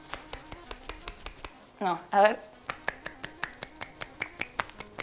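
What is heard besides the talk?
attempt at clapping with one hand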